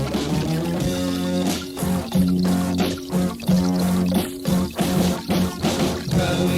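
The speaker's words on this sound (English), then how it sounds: "I recorded the sound of a piece of wet toilet paper falling into the toilet" Wet toilet paper plopping into a toilet, sampled and played back at pitch on a 1980s Yamaha VSS-30 sampler, forms a sustained, pitched, buzzy musical phrase with repeated rhythmic re-triggers at a steady, loud level.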